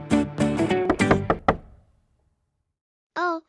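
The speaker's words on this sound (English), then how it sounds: "someone's knocking at the door" Knocking on a door in a short English-conversation scene about the first day of school, a quick run of loud, close raps followed by silence and a brief voiced sound.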